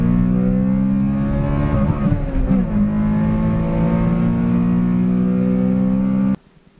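A freshly rebuilt engine revs up loud and close, holding a steady high droning pitch with a brief wobble early on, then cuts off abruptly near the end.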